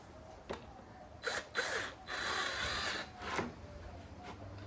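A drill drives screws into a wooden bird feeder in short, close bursts of whirring, with one longer run in the middle and quieter handling noise between.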